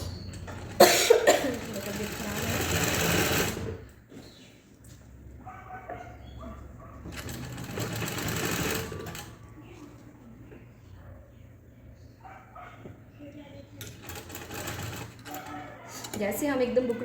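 A sewing machine stitches a pad into a blouse neckline without buckram, whirring in bursts of a few seconds with pauses between runs, while someone talks quietly over and between the stitching.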